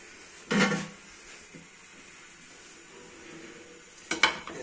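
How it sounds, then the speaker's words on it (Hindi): Khichdi being stirred in a pot over low heat, with two short scraping, clattering bursts of a spoon against the pot separated by a quieter stretch of faint background sound. "ऐसे करके खिचड़ी को मिक्स कर लेंगे अच्छी तरह ताकि ये इवन कुक हो जाए।"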